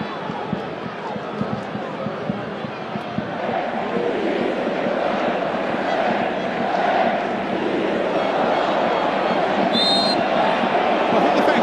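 Large football stadium crowd at a World Cup match between France and Ivory Coast, a steady broad roar of massed voices and chanting that swells slightly partway through, loud and continuous with no single voice standing out.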